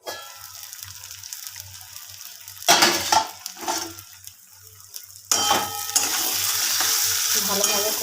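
Pointed gourd sautéing in a pan, frying quietly at first, then a spatula scraping and stirring in bursts, with a steadier, louder sizzle in the last few seconds.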